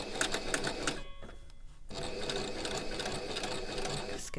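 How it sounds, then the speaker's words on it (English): A sewing machine stitches the middle seam of a fabric face mask, running in a steady whirring burst, pausing briefly, then whirring on continuously at close range. "My sewing machine sews it nicely both sides"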